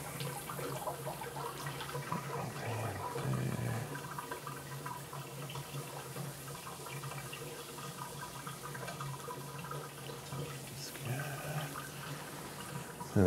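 Water gurgles and runs steadily as a bathroom sink drains during a home inspection, a soft continuous trickle with a brief louder splash near the start.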